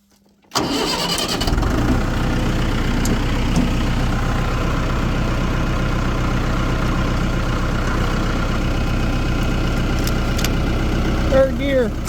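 A tractor engine cranks and catches, then settles into a loud, steady running rumble close by that keeps going without a break.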